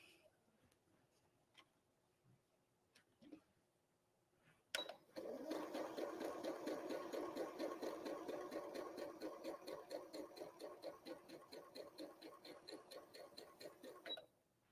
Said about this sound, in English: I've sewn my strips of binding